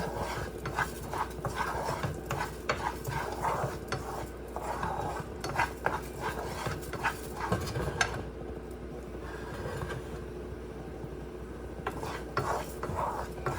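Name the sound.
rice being stirred and toasted in a pan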